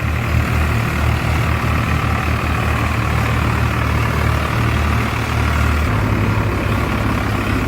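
A 1996 model Farmtrac 60 tractor engine labours in a rain-soaked muddy field, a steady heavy diesel drone with a low rumbling pulse that holds throughout, close and loud with no talking.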